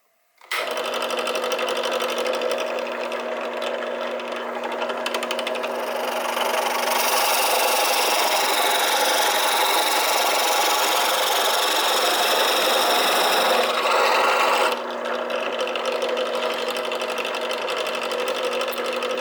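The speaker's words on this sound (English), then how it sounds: "We're going to bore down into this." A drill bores a hole into a wooden board for a dowel, with a loud, sustained whirring whine that holds steady for most of the clip and shifts in pitch slightly as the bit cuts.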